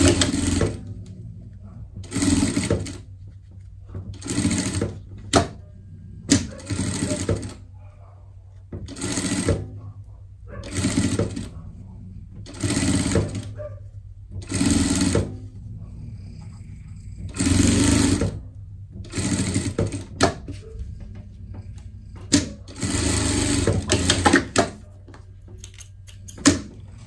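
A sewing machine stitches fabric for a Christmas pet shirt in repeated short bursts of rapid whirring, each run a second or two long with quiet pauses between.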